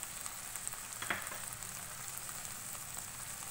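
Noodle sauce ingredients of black pepper, crushed red chilli, vinegar and soy sauce fry in a pan over medium flame for hakka noodles, giving a steady close sizzle with one brief stir or clatter, no talking.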